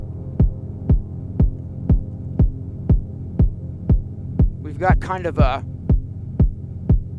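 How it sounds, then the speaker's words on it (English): A kick drum thumps in a steady, even pulse against a sustained pad whose level pumps with each hit from sidechained reverb; someone briefly speaks over the loop. "can you hear now how the kick drum and the pad are sort of interacting with each other?"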